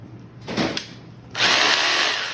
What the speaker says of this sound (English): hammer drill, which you can hear, the actual hammer